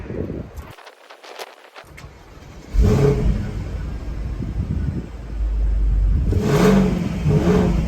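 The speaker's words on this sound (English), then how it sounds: "it's completely stock, but it's still a V8 and it sounds good" A stock 2010 Porsche Panamera 4S V8 engine revs hard twice, each loud, rising roar separated by a steadier running hum, close and alone with no talk.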